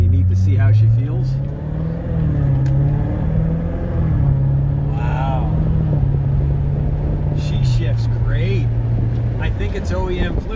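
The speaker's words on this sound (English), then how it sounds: "we're going around the block in the C7 Z06" A Chevrolet Corvette C7 Z06 drives around the block, its engine holding a steady, loud low drone that rises slightly in pitch, with faint voices inside the cabin.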